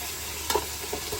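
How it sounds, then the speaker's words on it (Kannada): Biryani masala fries and sizzles in a pan, a quiet steady hiss with a brief stir-like burst midway and small crackles after, with no voices. "ಬೇಯಿಸಿದ್ದು ಸ್ವಲ್ಪ ಚೆನ್ನಾಗಿ ಫ್ರೈ ಮಾಡ್ಕೊಬೇಕು."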